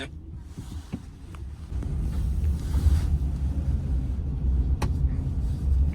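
A car drives slowly into a parking garage in Shanghai, its engine a steady low rumble echoing off concrete, with scattered creaks and clicks, growing slightly louder partway through.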